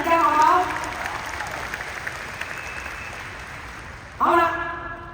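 An audience at a motivational talk event bursts into steady applause that fades into a long, soft patter, while someone speaks into a microphone at the start and again at the end.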